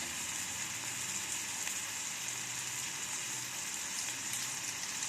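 Ginger garlic paste sizzles steadily in hot oil tempered with panch phoron for a Bengali cauliflower and spinach dish, a close, even hiss and crackle with no pauses and no talk.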